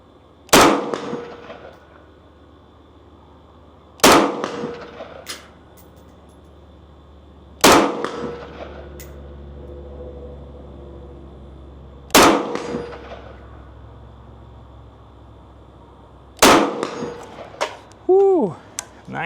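Five sharp rifle shots from a SIG 551 A1, each followed by a bright ringing clang as the round hits a steel target at 100 yards outdoors, spaced a few seconds apart with the ring fading between them.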